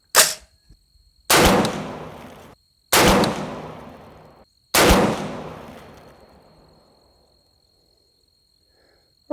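Three loud, close rifle shots from a 6.5 Creedmoor AR-10 firing 140 grain ELD Match reloads with H4350 powder, spaced about a second and a half apart, each sharp crack trailing off in a long echoing decay at an outdoor range.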